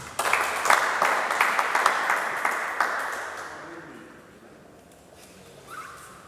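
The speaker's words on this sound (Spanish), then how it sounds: "Aplausos, por favor, de bienvenida." A conference audience applauds steadily for a few seconds, the clapping fading out toward the end with a brief sound at the close.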